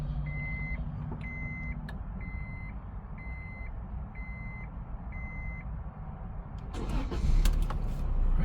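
A 2001 Acura Integra LS with a four-speed automatic sits with regular chiming warning beeps sounding inside the cabin, then its engine cranks and catches near the end with a rising burst of noise.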